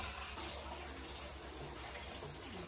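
Steady running water pours continuously, like a shower spraying nearby, a constant hiss without pauses or voices.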